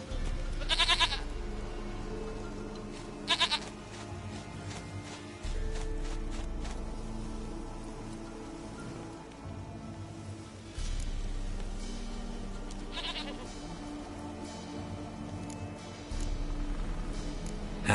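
Goats bleat in The Witcher 3, several short nasal cries scattered over a low ambient hum and shifting background drone.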